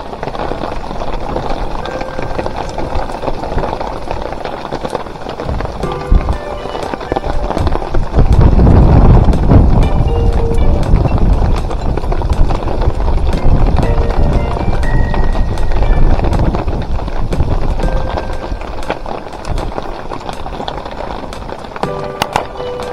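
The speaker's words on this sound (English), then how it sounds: "there's been this huge storm" Heavy rain pours down on a sailboat at sea during a summer storm, a steady roaring hiss with dense pattering that swells louder midway and stays constant, close and loud.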